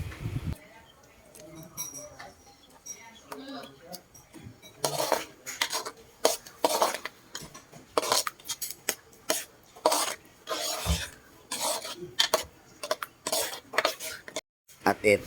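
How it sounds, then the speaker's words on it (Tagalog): Carbonara sauce with cream and evaporated milk is stirred in a pan, a utensil scraping and clinking against the metal in steady bursts, close and fairly loud, with a voice speaking at times over it. "Halo-haluin lang natin para hindi siya mamuo at para mag-mix lahat ng ingredients na nilalagay natin."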